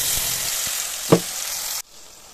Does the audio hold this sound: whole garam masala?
yes